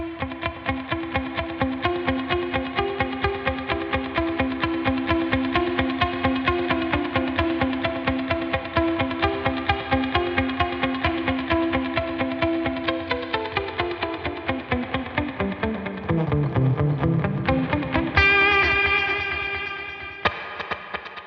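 Electric guitar notes through two delay effects running at once, repeating in rapid echoing layers, a dense pulsing texture that sweeps and swells before fading out.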